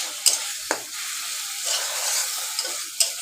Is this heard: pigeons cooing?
no